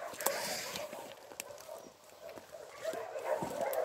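Several dogs bark in a scattered chorus at a distance near an abandoned church in the countryside, sharp yelps rising over faint outdoor background noise.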